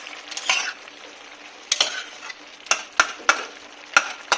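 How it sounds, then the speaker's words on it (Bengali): A spatula mashes fried prawns, onions and papaya in a sizzling pan, with about six sharp scraping strikes against the metal, the last ones landing in a steady rhythm over a constant frying hiss. "একটু খুন্তি দিয়ে আমি এগুলো একটু ম্যাশ করে দিচ্ছি"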